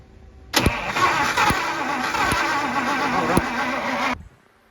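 A 1950 Pontiac engine cranks over steadily for about three and a half seconds during a spark test, the starter whirring with a rhythmic chug and a few sharp ticks, close and fairly loud, then stopping abruptly.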